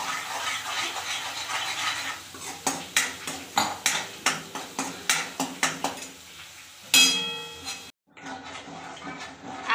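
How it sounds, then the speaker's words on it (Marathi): Masala roasted in oil in a pan for a brinjal and potato curry, with a spoon repeatedly scraping and clinking against the pan in a steady rhythm over a soft sizzle, then a brief louder burst and a short pause. "मसाला तेल सोडेपर्यंत त्याला चांगलं भाजून घेऊया आपण"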